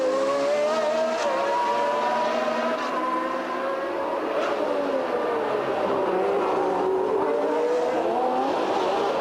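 Formula 1 race cars, including an Alfa Romeo, scream past at the 1981 US West Grand Prix, with engine pitch rising and falling as the cars sweep by, loud and continuous with no voices.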